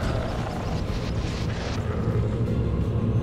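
Attacking aircraft in the strategy video game Universe at War roar in a dense, continuous engine drone mixed with rumbling battle noise, steady and fairly loud throughout.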